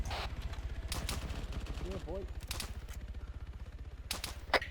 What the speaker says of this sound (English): Nice shooting, Tex.